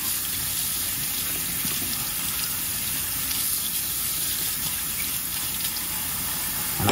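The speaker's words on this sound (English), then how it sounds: "And I rinse every bit of it, making sure all soap residue is rinsed off." Hummingbird feeder parts being rinsed under a running kitchen tap: a steady, close hiss of flowing water that stays even throughout with no voices.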